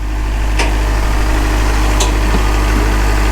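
Kubota machine engine idling steadily at close range during offloading, a constant low rumble with faint clanks on top.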